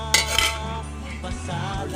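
Metal lid set onto a cooking pot of adobong papaya, a couple of close clanks at the start followed by softer rattles and a low simmering background.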